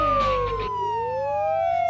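A loud cartoon police car siren wails in rising and falling sweeping tones, close and continuous, with a brief musical burst at the start.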